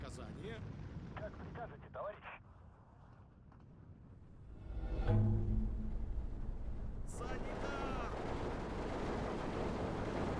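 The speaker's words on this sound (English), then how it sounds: "All the Maxims on the ridge firing away." Maxim machine guns firing from a ridge in the wartime strategy game Steel Division 2: dense, rattling bursts of gunfire with distant booming blasts, a continuous noisy battle din that grows louder midway.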